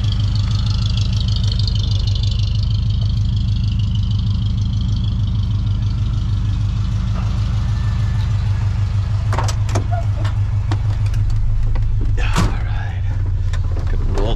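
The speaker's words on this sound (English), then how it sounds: "it feels like it's idling about 900." A 1979 Ford F150 engine idling smoothly at about 900 rpm, a loud, steady, close low rumble with a few clicks and handling noises near the end and no speech.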